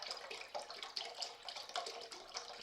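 Broth poured from a box into a cooking pot for polenta, a steady splashing liquid stream running continuously and close, with no talking.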